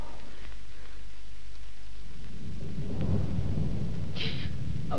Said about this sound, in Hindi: अभी बिजली कड़की थी ना,